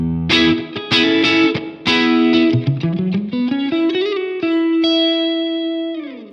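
An electric guitar through the UK voice of a Blackstar Amped 1, between a Vox AC30 and a Marshall Plexi, strums chords with a crunchy, slightly driven tone, then runs up a melodic line and lets a final note ring out.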